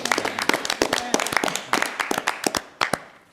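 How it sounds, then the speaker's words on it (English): Audience applause for the EMS crew at a county commissioners' meeting: a small group clapping in sharp, uneven bursts close by, the claps scattered rather than massed and thinning toward the end. "Let's give applause for the EMS."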